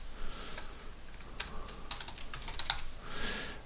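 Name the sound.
typing on a computer keyboard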